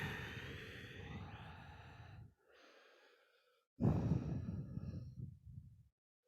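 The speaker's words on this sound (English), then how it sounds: "And just breathe." Slow, deep breaths drawn in yoga child's pose, a long exhale followed by a pause and then another full, close breath, soft and unhurried with no talking.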